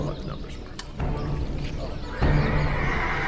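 Horses neigh and whinny in a scene of Roman soldiers confronting barbarians during the invasion of Britain, with a clearer whinny near the start and a louder, sustained one toward the end over a murmuring background.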